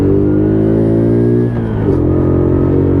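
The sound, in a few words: WK Colt 50cc moped accelerating in second gear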